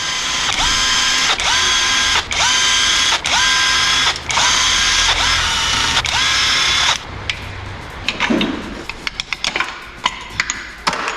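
A ratchet or ratcheting power tool zips in loud, rapid bursts while loosening the main bearing caps of a Golf 7 GTI engine, about six quick runs in a row, then scattered clinks and metallic taps of parts being handled.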